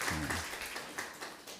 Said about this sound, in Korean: 우리 환영의 박수 한번 부탁드립니다.